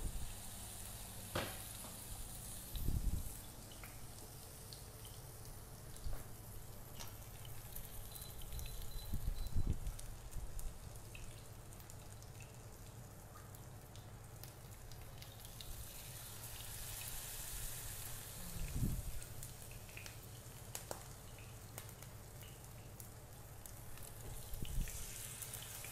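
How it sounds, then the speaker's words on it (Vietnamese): Korean-style bánh xèo pancake frying in oil in a pan, a steady close sizzle with crackling pops and a few louder low thumps from handling the pan throughout, no talk. "khi mình cho vô mình chiên nó sẽ không bị dính"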